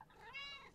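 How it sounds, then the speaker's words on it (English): A cat in the video game Spirittea lets out one short, rising meow, quiet and clear, with no talk over it. "The cat."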